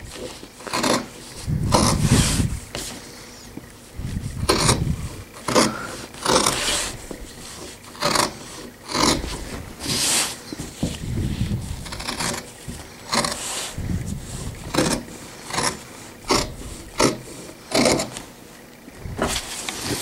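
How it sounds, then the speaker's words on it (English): Scissors trim away excess bamboo fabric while an all-in-one cloth diaper is being sewn, giving a run of close, crisp snips and rasping cuts in an uneven rhythm. "So I have trimmed off all the extra bamboo."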